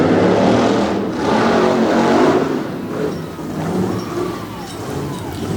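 The Black Stallion Ford monster truck's 572-cubic-inch Roush Yates engine revving hard in an arena, loud rising and falling roars with surges throughout.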